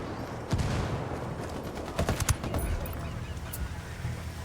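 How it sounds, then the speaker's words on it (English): Rebel mortar fire in Ghost Recon Wildlands, with a dense run of sharp thumping blasts and gunfire-like cracks clustered through the middle over a constant rumbling battle backdrop. "I called the rebels for mortar fire. Roger that. Mortars away."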